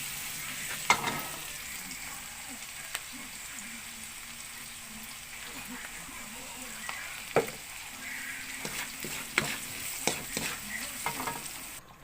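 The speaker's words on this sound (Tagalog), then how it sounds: "Aswete powder. Sinabay ko na sa bawang at sibuyas." Garlic, onion and annatto powder sautéing in a pan for kare-kare, a soft steady sizzle with scattered sharp clicks and scrapes of a utensil stirring, close and fairly quiet with no talking.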